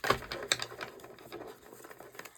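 Tarot cards shuffled by hand in a somewhat messy way during a pick-a-card reading, giving a close, soft run of papery riffles and taps with a few sharper snaps near the start, fading to quieter patter.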